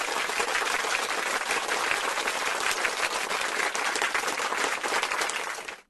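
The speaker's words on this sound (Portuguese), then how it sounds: "gostei, merece até palmas" Dense, steady applause fills the whole stretch at an even level, a broad wash of many hands clapping with no talk over it, fading out at the very end.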